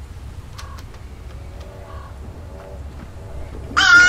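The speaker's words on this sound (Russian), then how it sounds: "слышим ворону" A crow caws in the horror video game Hello Guest: a harsh, loud call bursts out near the end after a stretch of quiet, faintly tonal ambience.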